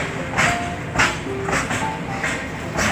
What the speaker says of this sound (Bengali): গুডসের ট্রেন যাচ্ছে দেখুন,